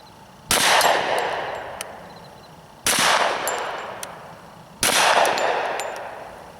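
Three separate shots from a Beretta Cx4 carbine chambered in .45 ACP, spaced about two seconds apart, each a loud crack with a lingering outdoor decay and faint metallic pings afterward.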